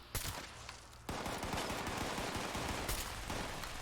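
Hunting rifle shots in Fallout fired at a super mutant, a sharp report early on, then dense crackling gunfire and explosive bursts continuing loudly to the end.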